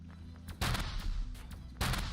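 An automated turret fires at a robot enemy in the game Pike Showdown, a few heavy booming shots over a low droning background, two blasts standing out clearly.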